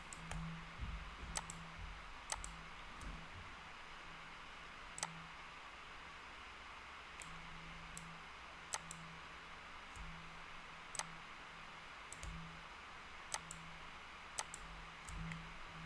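A computer mouse clicks while edges are selected in Blender 3D software: faint, sharp single clicks spaced irregularly, a second or two apart, over a low steady hum in a quiet room.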